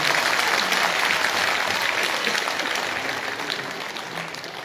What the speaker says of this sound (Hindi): अगर कविता ने बहुत अच्छी वंदना करी हो तो जरा बहुत अच्छी तालियां बजाइए।